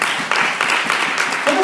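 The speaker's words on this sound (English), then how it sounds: "please give God a hand clap of praise" Church congregation clapping hands in praise during a service, a dense, steady wash of applause with a few sharper claps, and a voice briefly audible near the end.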